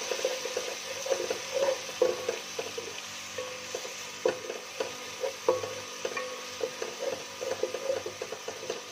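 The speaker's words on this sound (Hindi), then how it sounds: "साथ में अभी हम डालेंगे अदरक लहसुन का पेस्ट और हरी मिर्चें थोड़ा सा जो मैंने लिया था वो इसमें डालेंगे। अच्छे से हम इसको भूनेंगे।" Ginger-garlic paste and green chilies being sautéed in a pan, with a low, steady sizzle under uneven bursts of a spoon scraping and knocking against the cookware.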